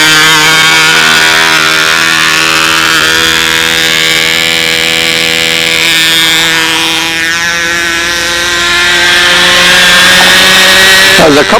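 A Brodak BYNO 10.5 glow engine on a model airplane screams at full throttle with no muffler, very loud and close. Its pitch wavers and sweeps for several seconds before settling into a steady high drone.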